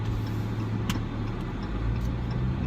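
Road traffic rolls past, heard from inside a moving vehicle, as a continuous low engine and tyre rumble with a couple of brief faint clicks, steady and close, with no talking.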